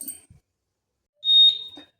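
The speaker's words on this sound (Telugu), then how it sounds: "నెక్స్ట్ వెంటనే వస్తుంది, ఒక సెకండ్స్లోనే మళ్ళీ విజిల్ వస్తుంది" AMC pressure cooker whistling while cooking veg biryani: one short, sharp, shrill whistle lasting well under half a second amid near silence, with a few faint clicks before and after.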